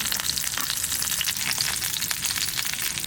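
Kadaknath chicken eggs fry on a wide tawa, wrapped in fresh turmeric leaves with spices, making a dense, constant crackling sizzle that stays close and loud throughout with no talk.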